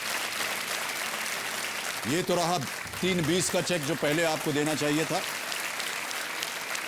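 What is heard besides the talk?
studio audience applause on KBC quiz show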